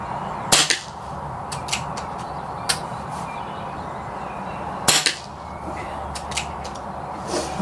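An air rifle fires H&N Baracuda 8 pellets, two sharp, loud cracks about four seconds apart, with fainter ticks and clicks in between against a quiet outdoor background.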